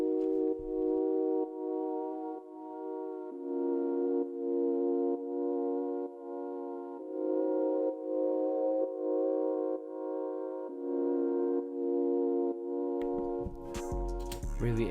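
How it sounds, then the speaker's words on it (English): Ambient keys pad from the Kontakt Cassette Keys 01 library with a boosted attack, sustained chords shifting every second or so, steady and loud, ending with a brief burst of noisy sound. "I started with this pad from KONTAKT."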